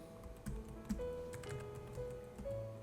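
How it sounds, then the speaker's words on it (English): Computer keyboard typed on in a spreadsheet, sparse soft keystrokes and clicks scattered over a faint background hum, close but quiet. "Apologize for my typing here."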